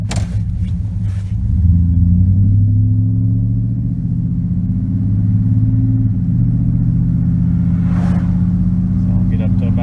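A GMT400 pickup truck rolls along on a test drive after a brake master cylinder upgrade, its engine rumbling low and loud as it accelerates steadily, with a brief voice near the start.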